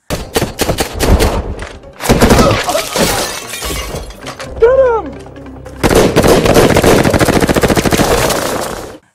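Loud gunfire in a film scene: rapid bursts of automatic shots crackle in dense volleys, broken by a pause with a shattering crash, then a long sustained barrage.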